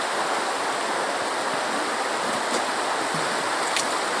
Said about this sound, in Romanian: să ai așa frumos o apă curgătoare